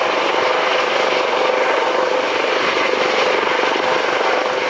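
A rescue helicopter hovers steadily during a sea-rescue basket demonstration at a runway airshow, its rotor and engine roar loud, close and unbroken throughout.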